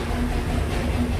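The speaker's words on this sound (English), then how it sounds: "I hear the train. We're very close to the train." Train rolling past close by at Magic Kingdom, Walt Disney World, a steady low rumble with a faint hum, continuous and fairly loud throughout.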